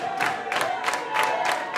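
Wrestling crowd cheering for Xavier Walker: a loud, steady roar of voices swelling in repeated rhythmic surges, near and continuous.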